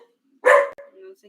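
A small pet dog gives one sharp, close bark followed by a short whining tail in an otherwise quiet indoor room.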